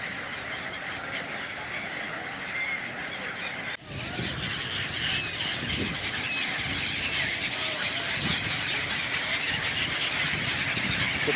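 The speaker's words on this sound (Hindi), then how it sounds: "कितना सुहावना लग रहा है पक्षियों का कलरव।" A dense chorus of birds calls and squeals continuously along the Ganges riverside in Varanasi, loud and busy against a steady outdoor wash of noise.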